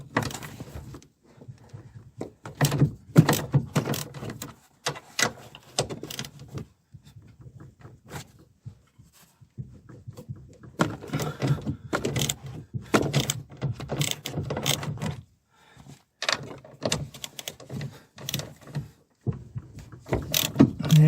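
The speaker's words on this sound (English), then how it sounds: "But first I'm going to loosen the top mount nuts." A wrench or ratchet works the top mount nuts loose on a Lexus LS 400 with rusty parts, giving bursts of rapid metallic clicking and clattering separated by brief pauses, close and moderately loud.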